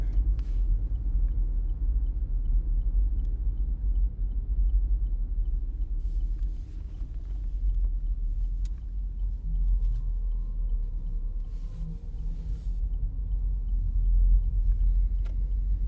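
An all-wheel-drive car rolls along a snowy, slick road during a winter storm, its low engine and tire rumble steady and continuous throughout, with no voices.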